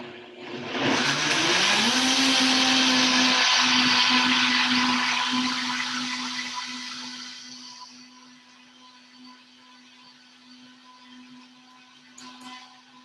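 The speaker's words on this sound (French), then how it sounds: "Maintenant, je passe au mélangeur." A blender whirs up to a loud, steady motor roar, holds for several seconds, then winds down and fades to a faint hum.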